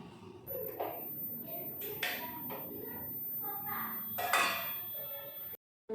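Pots and dishes being scrubbed and washed in a home kitchen, with scattered clinks and clatters of metal utensils, scraping and rinsing close by, and occasional voices in the background.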